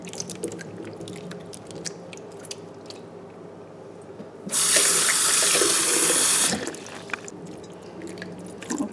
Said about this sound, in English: before I rewash with the regular water